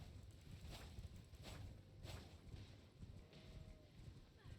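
Horse hooves in a video game clop in a steady walking rhythm under a broad wash of ambient noise, with a faint whinny-like tone near the end.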